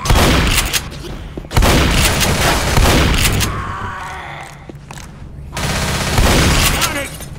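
Heavy bursts of gunfire from Left 4 Dead in a sewer level, loud and near, with rapid overlapping shots broken by short pauses and game voices speaking between volleys.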